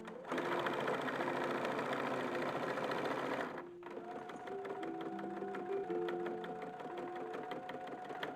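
A sewing machine stitching an 1850s-style printed cotton dress runs in a fast steady whir, stops briefly, then restarts with a lighter hum and faint tonal motor whine, close and alone.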